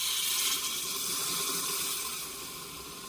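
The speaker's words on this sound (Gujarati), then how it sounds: "1 ગ્લાસ પાણી એડ કરવાનું છે." A short rush of a glass of water poured into a pot of stuffed eggplant curry, bright and splashy at first, then softening as the stream tapers off.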